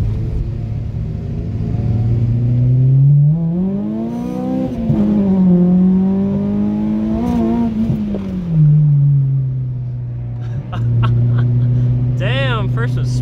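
A car at a car meet revving hard in first gear as its wheels spin. The engine note climbs and falls in loud, close sweeps over a deep rumble, with a voice briefly heard near the end.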